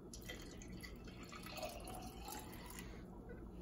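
300 milliliters of water poured into a mushroom liquid culture jar at close range, a quiet trickle and splashing fill that thins out toward the end.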